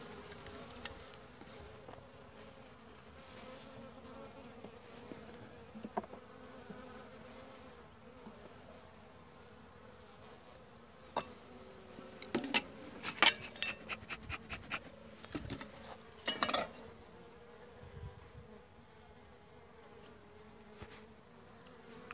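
Honeybees of a weak colony drone steadily around a hive, returning with pollen, with louder buzzing bursts as individual bees fly close past, then the hum settles back to a low background.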